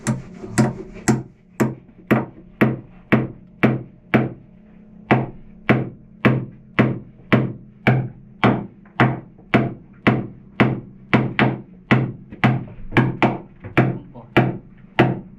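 Steady hammer blows striking wood while building an engine room brace, about two per second, loud and close, with a faint voice underneath.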